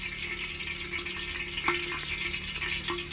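Onions fry in a pan on a makeshift cooking setup inside a truck, browning with a steady sizzling hiss and a few brief clatters of stirring, with no talk.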